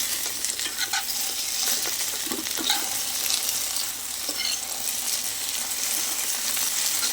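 Potatoes sizzle steadily as they fry in a pan, with intermittent scraping and clinking from a spoon stirring them, the frying hiss loud and constant throughout.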